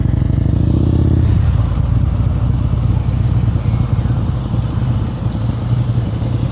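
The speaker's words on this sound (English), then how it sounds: "I can hear the bike right here, it's fighting." Motorcycle engine labouring against too much rear brake during a slow-speed riding drill in North Carolina, a loud, close, steady low drone that shifts pitch slightly after the first second, with a voice faintly underneath.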